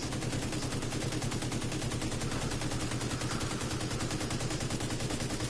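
Sustained automatic gunfire from The Division 2 video game, a dense rapid stream of shots fired continuously at steady loudness throughout, with no talk over it.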